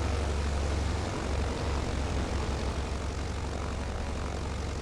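A simulated Britten-Norman Islander twin-prop aircraft in Microsoft Flight Simulator sits with the brake set, its engine roaring loud and steady throughout as it runs through a shutoff, with no voices.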